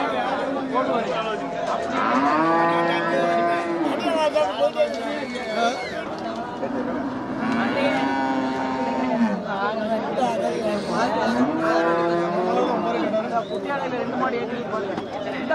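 Cattle at a busy outdoor cattle market moo in long, drawn-out calls, one after another, while people chatter and talk nearby.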